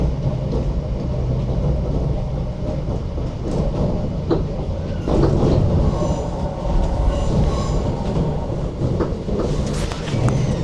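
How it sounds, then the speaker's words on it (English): Passenger train running from Glasgow Central toward Paisley Canal with its windows open, a loud, close rumble of wheels and rushing wind with rhythmic clatter and occasional high squeals from the rails. "it's the windows open on these trains"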